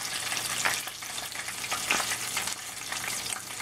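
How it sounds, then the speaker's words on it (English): Steady crackling and sizzling of shrimp pies frying in hot oil, with soft pops and occasional turning. "you want to keep turning it while it's frying"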